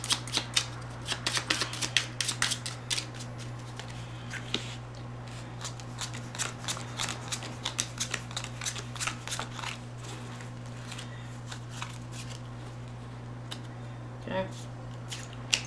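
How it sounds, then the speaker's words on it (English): A small deck of 15 playing cards being shuffled up close for a card trick, a quick series of crisp riffling clicks and snaps over a steady low hum, with a voice speaking now and then. "Got 15 cards here."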